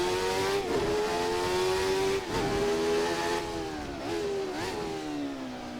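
Jordan 191 Formula One car in a racing simulator, its engine revving hard and climbing in pitch with several quick gear changes, a loud continuous mechanical howl heard alone.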